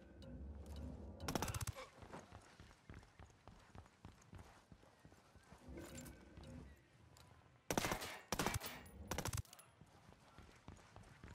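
Gunfire in the tactical shooter Ghost Recon Wildlands comes in sharp scattered shots and short bursts, with louder volleys near the start and toward the end over quieter game ambience.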